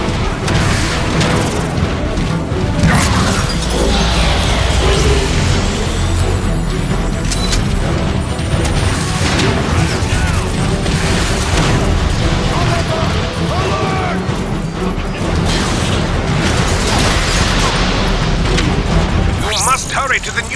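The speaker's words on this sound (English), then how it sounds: "Call in an artillery strike!" Booming artillery-strike explosions in the Transformers: Fall of Cybertron video game, a dense run of heavy blasts and crashes over about twenty seconds, loud and continuous, mixed with character dialogue and battle noise.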